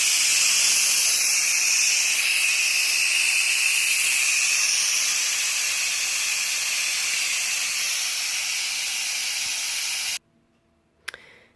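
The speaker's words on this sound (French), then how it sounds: "on l'a mis sur ce côté-là pour faire sortir toute la vapeur" Steam hisses steadily and loudly from the release valve of an Aicok electric pressure cooker for about ten seconds, then cuts off abruptly, leaving near silence broken by a brief click.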